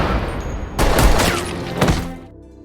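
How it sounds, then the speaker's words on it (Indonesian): Gunfire in an action film's climactic robbery shootout, with a police agent's shots: loud broadband bursts of shots and impacts over a rumbling background, a heavy cluster of blasts followed by another burst before fading. "Ternyata itu adalah Kenny dan juga tembakan dari agen Rossi."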